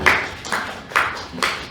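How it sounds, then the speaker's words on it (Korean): Congregation at a church worship service claps in unison, four sharp bursts spaced about half a second apart, fairly close and moderately loud, with no talking over it. "함께 영광 박수 올려드립니다"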